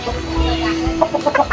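A seven-month-old bulik gamefowl from a backyard bloodline gives a short run of close, loud clucks that grow choppier toward the end, with no talk over it.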